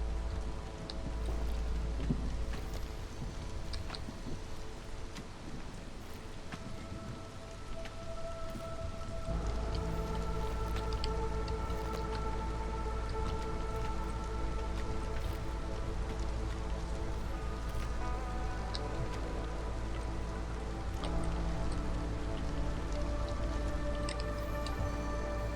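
Heavy rain storm in the video game Against the Storm, a continuous wash of rainfall with deep rumbling underneath, intensifying partway through with added droning layers, no talking.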